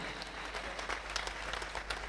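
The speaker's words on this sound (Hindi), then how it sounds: "अब आपकी तालियां बताएगी कि आज इनको किस प्रकार से हाजिरी देनी है" A crowd at an annual devotional festival of the Ghanchi community in Bangalore claps together, a continuous moderate round of applause with scattered sharper hand claps and a low hum underneath.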